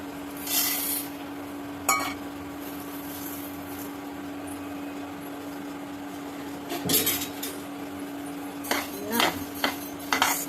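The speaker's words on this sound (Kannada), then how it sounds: "ಗ್ಯಾಸ್ ಸಣ್ಣ ಇಟ್ಕೊಂಡು ಕೆಂಪಾಗೋವರೆಗೂ ಹುರಿಬೇಕು" A full bowl of coriander seeds dry-roasting in a pan over a low gas flame, with a steady hum under a few scattered spoon scrapes and rattling clinks, no talking.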